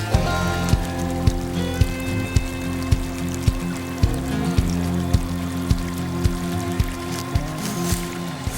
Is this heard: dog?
no